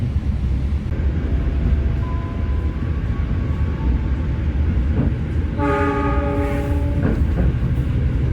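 A night express train runs fast from Semarang to Jakarta, its steady rolling rumble filling the whole stretch, with a brief tonal horn call sounding near the end and no one speaking.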